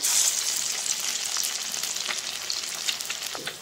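Prawn fritters (chingri bora) frying in hot oil, a steady dense sizzle with crackling spatters throughout, close and fairly loud, no voices.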